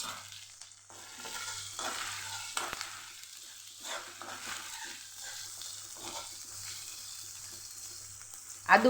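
Ginger-chili paste sautés in hot oil with cinnamon, cloves, dried red chili, bay leaf and asafoetida for a Kathiyawadi field-bean curry, giving a steady sizzle with scraping stirs throughout and a louder clatter at the very end.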